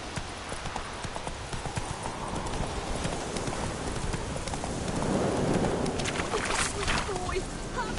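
Roach the horse's hooves clip-clop in a steady, fairly close rhythm in the video game Witcher 3, over a wet, rushing ambient bed, with a voice speaking briefly.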